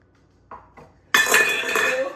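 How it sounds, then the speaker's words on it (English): A couple of light metallic taps, then a louder clattering, rattling scrape of metal against metal as a dough hook is removed from a stand mixer after mixing pizza dough, close by. "So we take the dough hook off."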